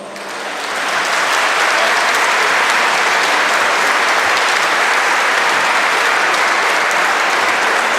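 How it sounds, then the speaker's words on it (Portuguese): A room of guests at a PSD/CDS candidacy dinner swells quickly into a big round of applause, then holds a loud, dense, even clapping for several seconds with no voices. "peço-vos uma grande salva de palmas"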